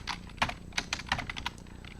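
Quick, close clicking of keys on a computer keyboard as a search is typed, an irregular run of soft taps over two seconds, quiet and alone.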